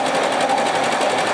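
An embroidery machine stitches a logo on a hat, giving a steady, rapid, close mechanical whir with an even, fast needle rhythm throughout.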